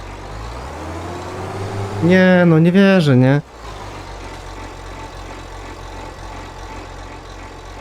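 A New Holland tractor in Farming Simulator 2025 labours up a hill with a steady low engine drone throughout, while a man briefly exclaims over it.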